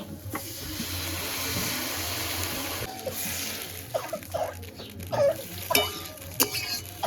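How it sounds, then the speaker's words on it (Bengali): Green chilli and thankuni leaves frying in a pan, a steady hiss and sizzle with occasional clinks and scrapes of stirring, close and alone. "এবার হালকা করে একটু ভেজে নিচ্ছি"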